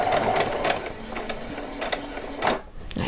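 A sewing machine stitches doll saree fabric in steady, close, rapid bursts of buzzing stitching with brief pauses, running on its own.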